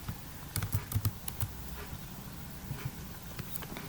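Fingers typing a spreadsheet formula on a computer keyboard, a quiet, close run of light irregular key clicks with short pauses between bursts.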